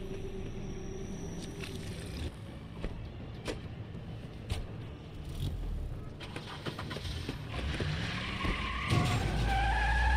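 A car skids and comes to a stop in The Wolf Among Us, a tire screech and rumble that grows louder and heavier toward the end over a steady background of game noise.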